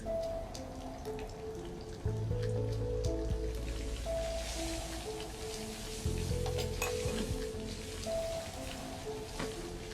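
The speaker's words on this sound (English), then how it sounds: "You're burning the garlic." Garlic burning and sizzling in a pan: a steady, soft, crackling hiss like light rain, with faint pops throughout, under quiet background music.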